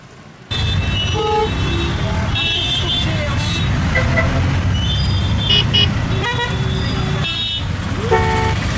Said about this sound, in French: En rue, ça klaxonne beaucoup